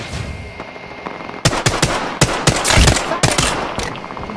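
Rapid automatic gunfire in the Apex Legends video game, loud and close, with bursts of sharp shots crackling in quick succession over a steady background hum.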